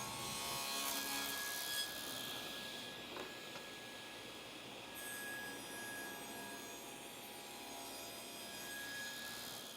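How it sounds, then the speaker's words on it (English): Table saw cutting a centered slot in a wooden workpiece against the rip fence, a steady continuous whirring cut with a faint high whine, fairly quiet and unbroken, no voices. "Then make a pass with each face against the rip fence to create the centered slot."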